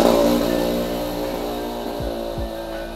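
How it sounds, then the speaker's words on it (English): A noisy motorcycle engine rumbles loudly nearby, its low harmonics shifting as it passes by, and it carries on steadily for about three seconds with no talking over it. "sorry, got motor. Very noisy."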